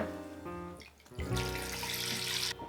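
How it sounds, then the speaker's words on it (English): Tap water runs into a bowl, a steady splashing stream that grows fuller and louder partway through before stopping abruptly, close and clear with no talking. "Fill a bowl with water and add ice."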